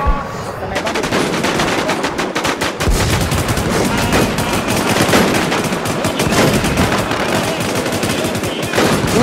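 Sustained automatic weapon fire in the survival shooter Infestation on the Rocky Ford map, a loud continuous clatter of rapid shots with occasional heavier bursts, running nearly unbroken for several seconds.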